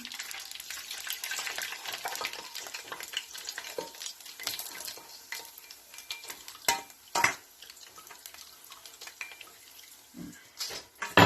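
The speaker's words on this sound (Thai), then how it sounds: "มาเทน้ำมันก่อนด้วยค่ะ เทน้ำมัน" Cooking oil heats in a pan in a home kitchen while food fries with a steady sizzle. Scraping stir strokes and occasional louder clatters sound close by.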